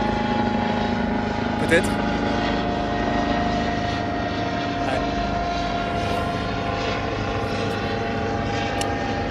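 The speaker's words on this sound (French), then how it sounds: "Donc là vous devrez entendre un hélico qui passe." A helicopter passes overhead, its steady droning rotor and engine hum filling the background throughout while people speak briefly over it.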